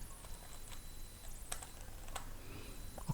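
Someone types on a computer keyboard while entering text into a slide, producing soft scattered clicks over a steady quiet background hiss.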